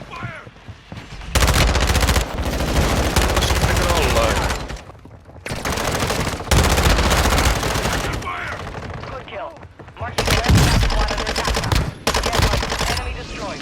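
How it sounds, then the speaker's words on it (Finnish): Rapid bursts of automatic gunfire in the Call of Duty Warzone video game, loud and continuous across several long volleys separated by short pauses, with speech in Finnish mixed in. "Mutta mun vieläkin ammutaan."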